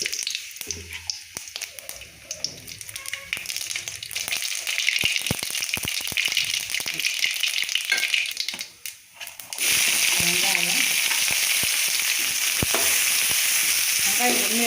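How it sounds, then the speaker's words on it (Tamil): Mustard seeds crackle and fry in hot oil in a pan for a village-style South Indian egg curry, a dense steady sizzle with brief rattling pops, growing louder and fuller in the last few seconds, with no one talking. "அதனால் நான் கடுகு சேர்த்துக்கிறேன்."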